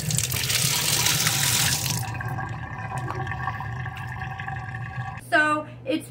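Water runs from a tap into a bathtub fitted with a drain stopper, a loud steady splashing rush that cuts off after two seconds, leaving a faint trickle and hum before brief clunks.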